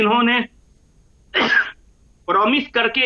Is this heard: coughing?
yes